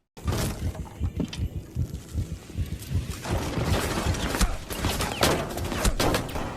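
Rapid gunfire from a Magnum revolver in a video game, a dense run of sharp cracks that grows busier and louder partway through, with some shattering noises mixed in.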